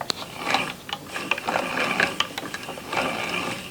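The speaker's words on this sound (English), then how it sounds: "Begin turning the crank on the ball winder counterclockwise." A yarn ball winder being cranked by hand: a quick, uneven stream of ratcheting clicks and gear rattles, fairly close and fairly quiet, with no talking.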